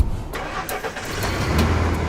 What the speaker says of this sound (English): It's my job to start the cars.